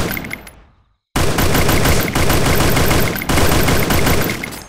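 Rapid, dense gunfire from Garena Free Fire fills the clip after a brief fade and a moment of silence, loud bursts running continuously with a few short breaks, with no talk over it.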